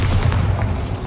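A Bombarda blasting spell detonates in Hogwarts Legacy, a deep, loud booming explosion with a heavy low rumble that fills the short moment without any speech.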